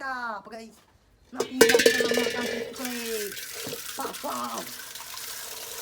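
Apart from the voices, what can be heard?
filling a vessel with water for a pet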